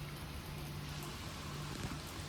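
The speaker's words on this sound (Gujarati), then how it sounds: "વરસાદ અત્યારે મેં ચાલુ થઈ ગયો હે ભાઈ સાહેબ." Rain falls steadily at a resort in Sasan Gir beside an open ground and swimming pool, an even, faint, distant hiss with no break and no voices.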